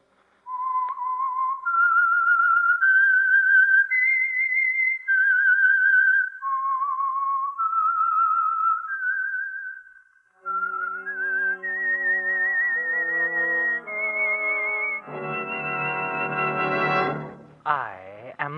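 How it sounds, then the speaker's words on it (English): The whistled theme of the CBS old-time radio mystery program The Whistler, sponsored by Signal Oil, is a clear, loud solo melody of sliding whistled notes. An orchestral passage with layered tones follows and swells to a closing flourish, with no talking. "That whistle is your signal for the Signal Oil Program"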